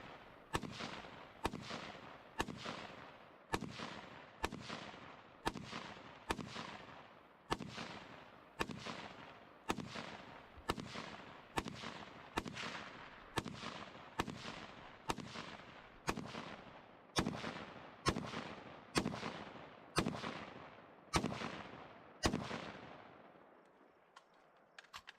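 Rifle fire, one 25-round magazine emptied in single shots at a slow, even pace, each crack sharp and close with a short decaying tail, about one per second, alone without talk.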